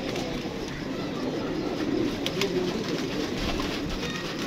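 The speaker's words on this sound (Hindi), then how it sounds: "कबूतरियों में किंग कबूतरी निकाल ली है।" Pigeons coo softly amid a dense, noisy backdrop of rustling and low rumble, steady throughout.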